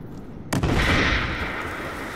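Mortar fire in the Battlefield video game: a single loud blast lands suddenly after a moment of near silence, followed by a long rumbling, hissing decay.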